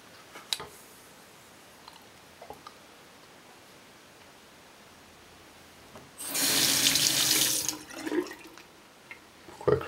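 Water running from a tap into a sink while an item is rinsed, a brief loud gush of about two seconds near the microphone, after quiet clicks and handling sounds.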